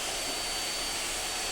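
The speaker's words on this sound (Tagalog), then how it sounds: "Maganda ang ikot ng makina, swabing swabe." A Ken cut-off machine's motor spins at steady speed, a smooth, even, close whirring hum with no voices over it.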